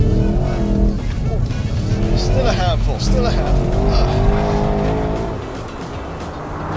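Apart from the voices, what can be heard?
Porsche Cayenne GTS driven hard, tires squealing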